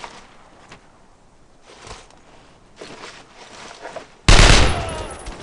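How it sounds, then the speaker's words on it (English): Gunfire in Brothers In Arms: Road To Hill 30, during the push into Carentan: faint scattered shots and battle noise, then a sudden loud sustained burst of fire near the end. "They're shooting at us!"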